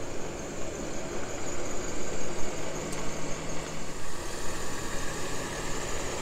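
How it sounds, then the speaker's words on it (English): An RV engine idling while the vehicle backs up at a rally, a low steady rumble with slight throbbing pulses, close and continuous, no talking. "We're backing up here to give these people a chance to get out."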